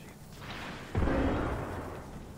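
In Apex Legends, a frag grenade goes off with a sudden muffled boom that rolls out and fades over a second or so, moderately loud above quieter background game noise.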